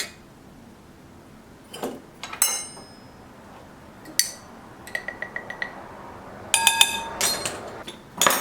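A utensil clinks and taps against a bowl while baking powder, cinnamon and other dry ingredients are stirred together for cranberry treats, in short irregular bursts of bright clatter with quiet pauses between.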